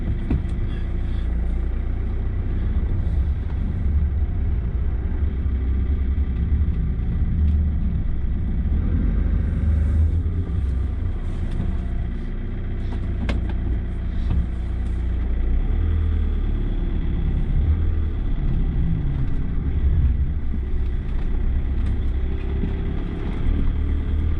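A car drives along a snowy road in an English winter with snow tyres fitted, giving a steady low engine and tyre rumble throughout, close and continuous with no talk.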